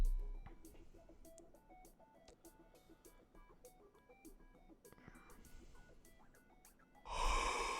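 A single long yawn from a person, opening with a sharp breathy intake and drawn out over several seconds, heard close up over quiet background beeps and game sounds from Euro Truck Simulator 2 truck driving.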